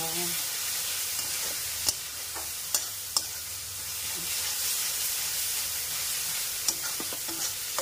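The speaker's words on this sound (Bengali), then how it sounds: "আস্তে আস্তে করে ভাজা করতে হবে" Stuffed bitter gourd fries slowly in hot oil, giving a steady soft sizzle and hiss with a few sharp clicks and taps of stirring scattered through.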